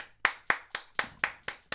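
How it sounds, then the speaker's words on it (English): Slow, evenly spaced hand claps, about eight sharp smacks at a steady beat, close and distinct with short decays between, from a morning radio show studio. "Let's clap."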